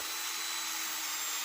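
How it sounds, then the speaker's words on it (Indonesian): A drill bit bores into a sonokeling wood machete handle, making a steady, close, continuous grinding whir with no break for the whole moment. "lalu bagian korek-korek dengan menggunakan mata bor seperti ini guys"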